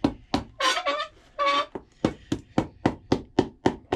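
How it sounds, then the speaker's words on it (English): Steady hammering on a boot sole while packing cork filler in, a string of sharp close knocks in an even rhythm, broken early on by a few longer scraping or rubbing sounds. "make sure I hammer out everything nicely"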